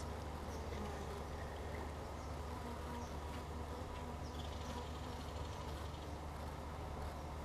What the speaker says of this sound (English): being this close to this many bees! Covered in bees!